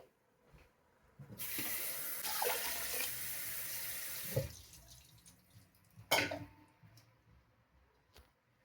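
Water poured from a cup into rice for mushroom biryani, a couple of splashing pours, the first longer and steady, the second short, with quiet drips and pauses between.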